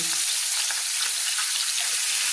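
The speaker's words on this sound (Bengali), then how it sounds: "এই গরম তেলে আমি ছেড়ে দিলাম তেলাপিয়া মাছ দুটো" Marinated tilapia fish frying in hot oil, a continuous bright crackling sizzle with no voices.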